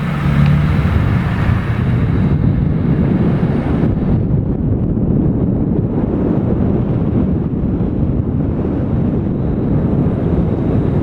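A pickup truck drives along a road at night, a steady low engine and road rumble with heavy wind buffeting across the microphone throughout.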